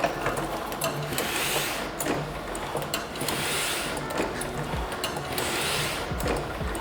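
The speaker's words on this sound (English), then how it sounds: "when I turn this on, the rollers will rotate and the ink will spread out" Motorized ink rollers on a printing press turn steadily, spreading blue ink in an even, dense mechanical whir with faint rhythmic clacks throughout, close and continuous with no talking.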